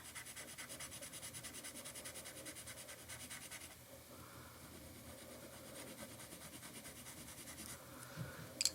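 Faint, close scratching of KALOUR colored pencils shading on paper with medium to heavy pressure, with quick regular back-and-forth strokes at first and then slower, softer rubbing.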